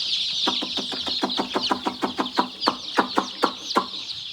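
Native Gavran chicks under a heat bulb peep in a rapid, steady string of high, bright chirps, several overlapping, close by with a faint background hum.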